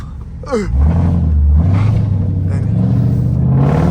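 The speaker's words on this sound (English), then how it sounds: "My intake sound crazy, y'all." A Jeep with a 5.7 engine pulls away at night, the intake roaring loudly as the engine revs up and holds a deep, steady drone close by.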